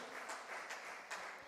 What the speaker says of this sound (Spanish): Demos un aplauso en esta mañana a este Dios maravilloso